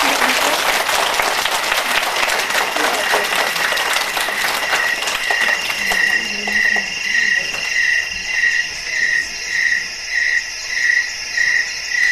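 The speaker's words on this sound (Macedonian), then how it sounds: "Плескајте ги на куклите." An audience claps for puppets at a children's puppet show, with dense applause that fades over the first half, leaving a steady chirping of crickets or insects that continues alone to the end.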